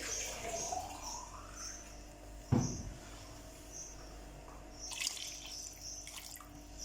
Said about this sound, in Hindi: अब इस स्टेज पे हम इसमें ऐड कर देंगे पानी